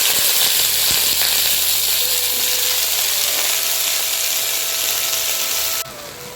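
Taro stolons hit a thin layer of hot mustard oil for a chepa shutki (fermented dried fish) dish, giving a loud, steady, close sizzle that holds for nearly six seconds, then abruptly drops quieter.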